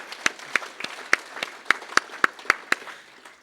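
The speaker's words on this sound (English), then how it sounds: "but still deserves a round of applause" A small audience at an annual general meeting gives a round of applause, with sparse, distinct hand claps ringing out at an irregular rhythm and no talking over them.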